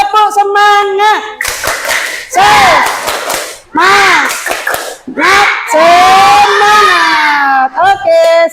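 A group of schoolchildren in an Indonesian classroom perform a clapping cheer, loud chanted voices alternating with bursts of rhythmic hand claps over about eight seconds.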